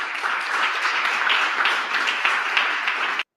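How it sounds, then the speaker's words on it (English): Clapping from a press audience at a political speech, a sustained, even wash of many hands that holds steady and then stops abruptly, with no talk over it. "The delay of the clap is epic."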